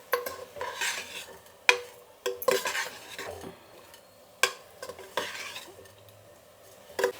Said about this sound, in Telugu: ఇప్పుడు దీన్ని బాగా కలుపుకునేద్దాం